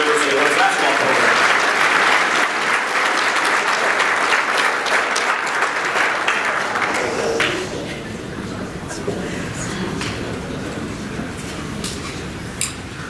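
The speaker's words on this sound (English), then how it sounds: "Please join me in a round of applause for the senior members of the women's basketball program." An audience claps at a senior student-athlete luncheon, a full round of applause that holds steady for several seconds, then thins out and tapers to scattered claps with some background voices.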